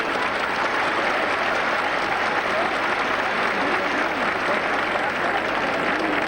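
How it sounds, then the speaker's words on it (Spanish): A dense, sustained roar of applause from a crowd packing the Las Ventas bullring in Madrid, continuous and even in loudness from start to finish. "fue aplaudida por el público que llenaba totalmente la Plaza de Toros de las Ventas de Madrid"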